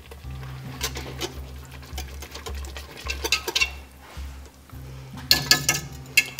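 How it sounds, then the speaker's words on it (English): Sour cream being whisked into a pot of soup, heard as faint, irregular metal-on-pot scraping and light clinks over a low steady hum, with no talk. "what we're going to do next is stir in the sour cream. Going to whisk this in."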